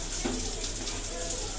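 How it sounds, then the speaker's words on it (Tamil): Water running from a household tap just after a water heater installation, a steady broadband rush and hiss that flows continuously and fairly loudly, with a low hum underneath. "இப்போ வந்துச்சு தண்ணி"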